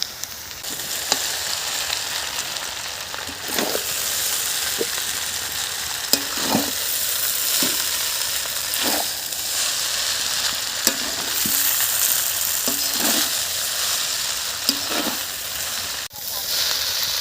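Vegetables and spices for Maggi noodles fry in a hot pan with a constant loud sizzle, while a spoon clicks and scrapes now and then throughout.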